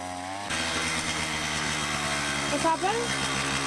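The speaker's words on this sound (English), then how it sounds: "Not working very well, my trimmer. It just loses power at the moment." A string trimmer suddenly starts up and runs with a loud, buzzing whine that wavers and sags as it loses power, held close for a few seconds, the motor alone without talk.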